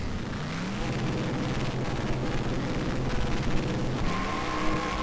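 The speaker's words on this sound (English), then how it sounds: "Revving it up like he did yesterday." Wood Brothers race car engine revving at the 2011 NASCAR Sprint Cup Daytona 500 in victory lane, a loud sustained roar that rises and falls with wind noise and distant crowd ambience, no talking.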